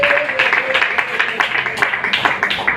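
An audience clapping in rhythm at a talk, a run of roughly even, moderately loud claps with a crowd voice or two mixed in.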